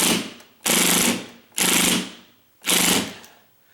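A power drill roars up close in three strong bursts as it drives a screw into a double door, each rattling and hammering briefly before winding down, with short pauses between.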